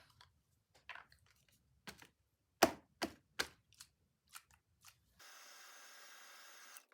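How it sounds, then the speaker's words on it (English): After a few scattered, quiet clicks and taps, a heat gun melting embossing powder switches on near the end with a steady, soft blowing whir. "I'm going to come in with my heat gun now"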